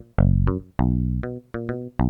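A muted, picked synth bass from the Logic Sculpture plugin plays a bass line, short plucked notes in a syncopated pattern with brief silences between phrases, clear and close.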